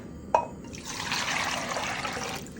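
Four cups of water poured into a cooking pan, a brief clink followed by a steady, close splashing pour lasting about two seconds before it stops.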